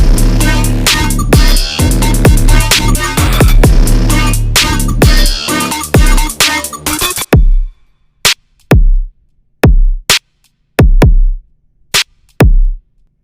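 A dense, heavy electronic drop pounds for about seven seconds, then cuts to sparse, punchy hits separated by silence.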